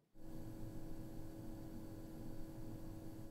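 An Eight Sleep Pod 3 hub cooling on a gentle setting gives a quiet, steady electronic hiss like white noise with a faint whine, switching on abruptly and holding even and unbroken.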